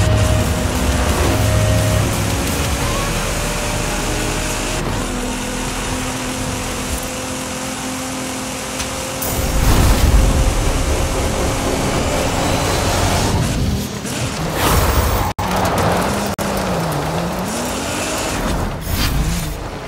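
A car driving in Forza Horizon 5 during an Eliminator race, a loud continuous engine drone with shifting pitch that rises and falls, plus occasional bumps and a sharp click midway, with no voice heard.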